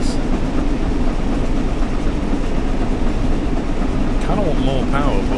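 Train running in the video game Train Sim World 4, a steady rumbling rail drone with rolling wheel noise, and a person speaking briefly near the end.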